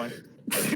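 A man sneezes once, a short, loud, breathy burst that breaks off a stretch of quieter speech, with talking heard around it.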